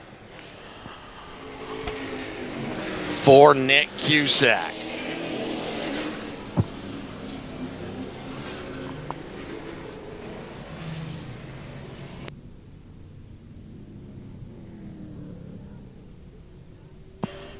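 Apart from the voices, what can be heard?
pro stock race cars driving at Star Speedway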